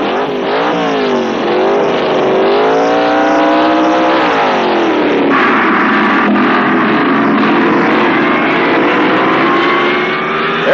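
Pro stock drag cars at the 1970 NHRA U.S. Nationals roar down the strip, a loud sustained engine howl whose pitch climbs, dips at each gear shift and climbs again, heard from nearby.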